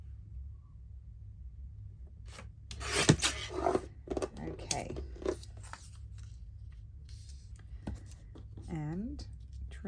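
Paper being trimmed for collage pages, with scattered rubbing and cutting scrapes in short bursts over a low steady hum, plus handling noises and a brief squeak near the end.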